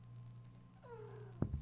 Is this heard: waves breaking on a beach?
no